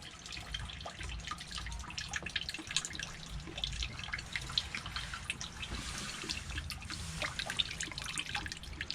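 Antifreeze drains and drips into the bilge of a Tartan sailboat during winterization, a steady trickle and patter of liquid close by, continuous and alone without voices.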